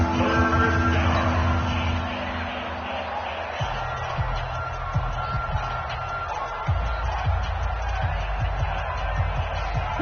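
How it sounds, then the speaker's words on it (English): Stadium crowd in Madden 20 during a Rams vs Bears NFL game, a steady broad roar of cheering and yelling that swells slightly, with scattered low thumps underneath. "the crowd getting into it as we come up on a big 3rd down"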